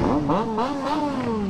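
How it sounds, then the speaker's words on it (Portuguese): Triumph Street Triple three-cylinder motorcycle engine revving close by, its pitch rising and settling over a short burst. "As três cilindros faz barulho também, gente."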